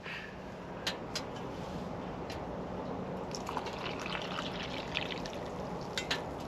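Water poured into cups at a hot-tent campsite, a soft continuous trickle with scattered light drips and clinks, faint and close, with no voices.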